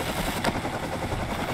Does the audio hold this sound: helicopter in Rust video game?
yes